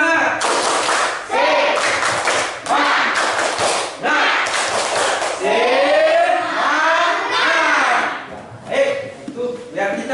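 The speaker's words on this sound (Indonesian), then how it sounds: "Baik, kita tepuk semangat." Classroom pupils performing a rhythmic Indonesian spirit clap, bursts of patterned group clapping alternating with chanted voices, loud and close, with a teacher speaking between the rounds.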